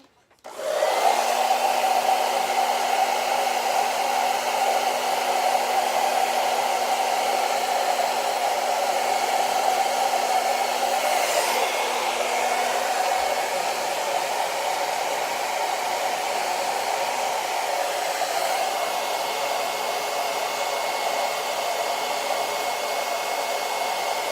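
A hair dryer on medium heat blows onto a hair topper, switching on abruptly and then holding a steady, loud, close-up whooshing roar with a constant motor hum for over twenty seconds, with no voices.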